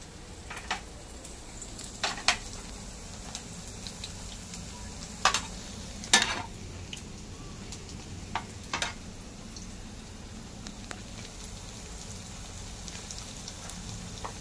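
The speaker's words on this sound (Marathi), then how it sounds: "बघा असे छान तेलात मस्त खरपूस तळले जातात" Sabudana vadas shallow frying in oil, a steady soft sizzle with scattered sharp crackles and pops heard close up and alone.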